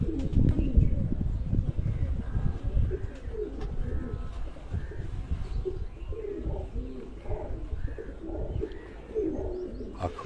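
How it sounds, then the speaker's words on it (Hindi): Chino Frans pigeons in a home loft in Sargodha, Pakistan, give repeated soft, throaty coos in overlapping bursts, fairly close, with brief human talk in the background. "ये दोस्तों वो चीनी ब्रीड चीनो फ्रांसे, ये भी चौधरी बाबर साहब के घर के कबूतर हैं।"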